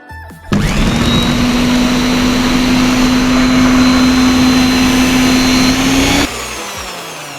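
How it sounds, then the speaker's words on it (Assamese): Mixer grinder jar whirring as it grinds capsicum and curd chutney: a loud, steady motor drone starting abruptly, holding for about six seconds, then cutting off as the blades spin down. "এতিয়া আমি জাৰটো ঢাকন বন্ধ কৰি এইখিনি গ্ৰাইণ্ড কৰি ল'ম।"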